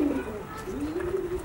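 Breeding pigeons of Janssen, Roeper and Stichelbaut lines coo in a fancier's loft, a close, soft, wavering coo repeated twice over a quiet background.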